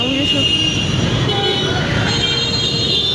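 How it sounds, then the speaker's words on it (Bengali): A train rumbles past close by, loud and continuous, with high metallic squealing from the wheels sustained throughout. "প্রতিদিন সকাল এই টাইমে ট্রেন যায়"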